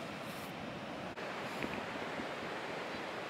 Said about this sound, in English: Wanna see how the MV88 Plus picks up my voice versus the waves in the background